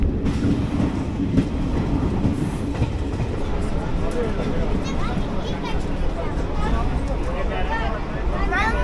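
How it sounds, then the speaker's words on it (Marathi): A train departing Pampore station in Kashmir rumbles steadily along the rails with a continuous clattering roar, close and loud throughout, with faint voices mixed in. "पामपूर स्टेशनवरून आपली गाडी आता रवाना झालेली आहे"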